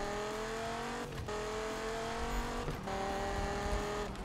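A car in Need for Speed revs at full throttle through a handbrake turn, the engine holding a loud sustained drone broken by brief skidding bursts.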